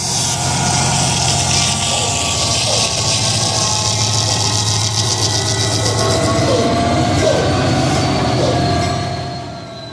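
CSX 4436 diesel locomotive grinding and slipping on the rails, a loud steady mechanical roar with a low engine drone, metallic squeal and clattering wheel noise throughout.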